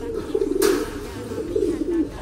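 Racing pigeons from Tacloban and Aparri, put together in a cage to pair, give low rumbling coos, two drawn-out bursts over a steady background hum.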